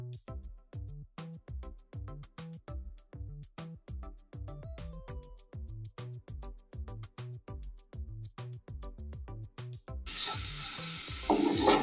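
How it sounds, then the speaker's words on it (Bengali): Sliced onions dropping into hot refined oil to fry crisp, a loud sudden sizzle that bursts in for the last two seconds after a long stretch of rhythmic background music. "পেঁয়াজগুলো আমি বেরেস্তার মতো করে ভাজা করে নেব।"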